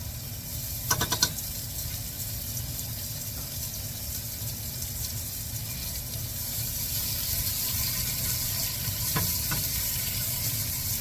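Onions dropped into a hot pot for a meat and potatoes dish, a steady close sizzle and hiss of frying throughout, with a couple of brief stirring clinks near the start and later.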